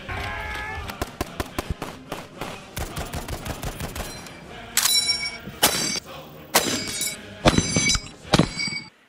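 M1 Garand rifle fire in Company of Heroes 3: a rapid volley of sharp gunshots, then louder bursts with ringing metallic clangs and pings, dense and close.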